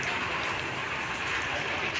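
Steady rain hisses continuously, a dense even patter with no pauses, fairly loud and close.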